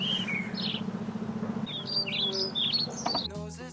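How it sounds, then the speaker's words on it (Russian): Birds sing outdoors in Wroclaw, Poland, with several short chirps and whistled phrases scattered over a quiet rural background, fairly close and clear, with no talking. "У нас тут птички поют, я надеюсь, слышно."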